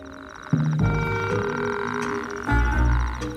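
Sustained buzzing croaks from a nearby Arabian toad, one long trilling call then another, over a background of distant frog chatter.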